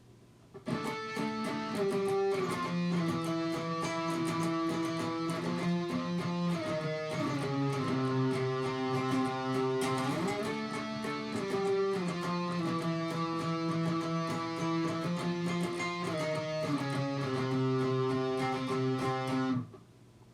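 An electric guitar plays a chord riff, with notes stepping down and returning in a repeating pattern, loud and continuous for about twenty seconds with no talking.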